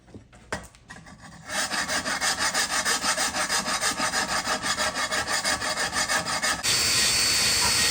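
A file and wire brush scrape scale off a car body in close, loud, rhythmic back-and-forth strokes that repeat steadily, with no talking.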